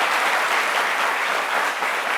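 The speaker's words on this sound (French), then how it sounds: "Ça s'applaudit s'il vous plaît." Dense, steady audience applause at a French-language talk event fills the whole stretch, close and even, with no voices standing out.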